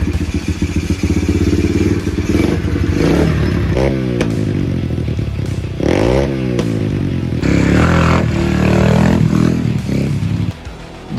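A cheap pit bike motorcycle engine fires up and runs close by, loud and steady, with repeated revs that rise and fall in pitch and some clattering mechanical noise along the way.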